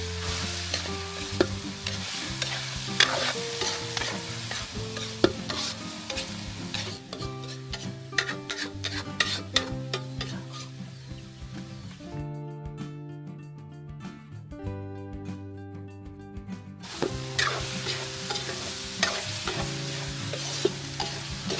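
Bitter melon and squid sauté in a pan for a farm-style dish, with a continuous sizzle broken by repeated scraping stirs and utensil clinks, close, over a steady musical backing.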